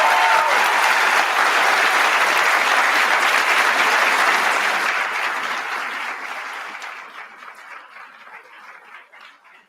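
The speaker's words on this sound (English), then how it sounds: "Can we just give them a round of applause" Sustained, loud audience applause fills a hall after a university debate on Christianity and secularism, steady for several seconds and then gradually fading out.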